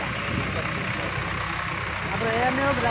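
Tractor engine running in a farm field, a continuous low rumbling idle close by, with a voice talking over it.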